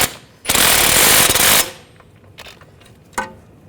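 A strut nut and bolt on a 2009-2017 Volkswagen Tiguan is snugged down with a loud, close burst of rapid rattling impact wrench, followed by a few sharp metallic clicks and knocks.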